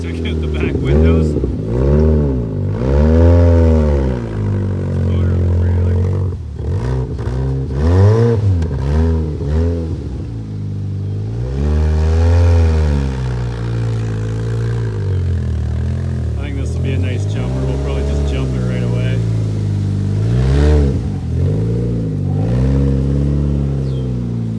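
An old $400 car with its back windows removed drives and accelerates. The engine is loud and close, and its revs swell and fall repeatedly through gear changes, with a voice talking over it at times.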